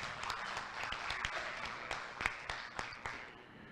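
Audience applause at an architecture seminar in Rio de Janeiro, scattered claps forming a moderate, fairly distant patter that thins out toward the end.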